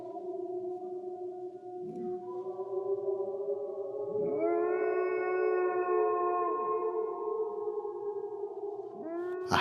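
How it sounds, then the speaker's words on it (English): A distant, mournful howl carried on the wind, several long tonal wails rising and falling in overlapping layers across the whole stretch with no voices. "A howl."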